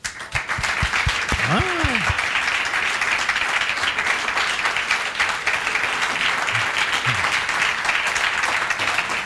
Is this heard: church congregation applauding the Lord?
yes